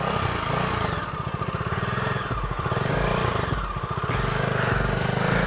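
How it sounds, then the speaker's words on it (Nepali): A friend's new motorcycle engine runs steadily at close range, a loud continuous rumble with a pulsing exhaust beat that swells and eases slightly as the bike rides along. "यो चाहिँ मेरो साथीको नयाँ बाइक"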